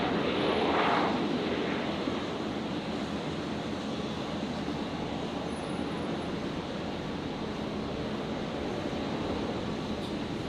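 A Rex Boeing 737-800 arriving from Sydney touches down at Brisbane Airport, giving a sustained, moderately loud jet rush and rumble with a brief swell near the start, then an even roar.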